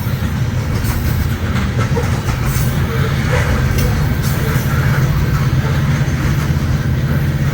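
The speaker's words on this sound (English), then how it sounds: "here comes our rear DPU" A freight train rolls past with a rear DPU locomotive on the Boone subdivision in the Midwest. A loud, steady rumble and the clatter of wagon wheels fill the whole stretch, very close by.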